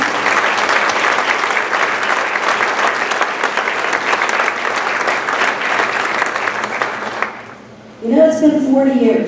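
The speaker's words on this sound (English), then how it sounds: "You can just give them a round of applause." An audience applauds a Board of Education at a career center groundbreaking ceremony, steady sustained clapping for about seven seconds before fading, followed by a speaker's voice.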